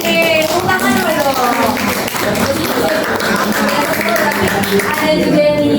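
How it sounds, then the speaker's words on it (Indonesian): Several people in a teachers' coaching session clap together in a brisk burst of applause, mixed with chatter and voices throughout. "tepuk tangan dulu"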